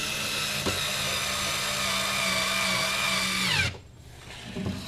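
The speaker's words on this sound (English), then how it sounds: "And then put our second screw in here." A power drill driving a screw into a Furinno bookcase, a close, steady whirring whine holding for several seconds before it stops abruptly, followed by light handling noise.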